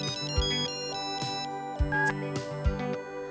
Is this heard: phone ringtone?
yes